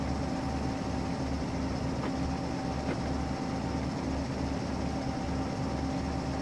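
A slow shunter locomotive in Train Simulator 2015's Hatchet Hill Quarry runs with a steady low diesel rumble and a rhythmic pulsing throb, loud and continuous with no talk.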